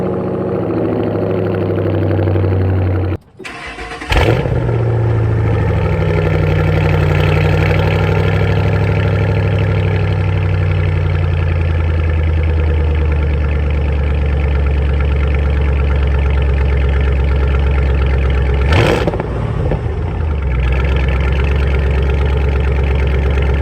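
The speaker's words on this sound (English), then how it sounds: "I'm gonna do a cold start with the mufflers in" A 2005 Ford Mustang GT with Pypes Violator mufflers cranks and fires into a loud, deep cold-start idle that holds steady, with a brief blip of revs near the end, close up and without talking.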